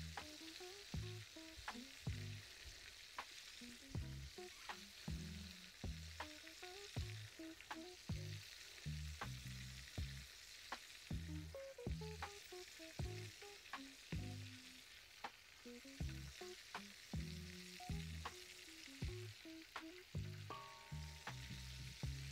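Shrimp, octopus and lobster frying in a pot of oil at an outdoor cooking setup, a steady loud sizzle and bubbling punctuated by regular clinks and stirring knocks, with no voices.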